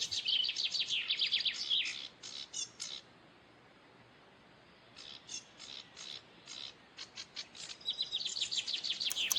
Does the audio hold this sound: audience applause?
no